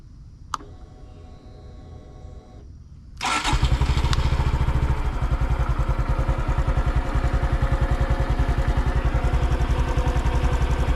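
A 2025 Honda Dax 125 motorcycle sits quiet through a faint click, then its engine fires up loudly and settles into a steady, close, rhythmic idle with a throbbing low pulse.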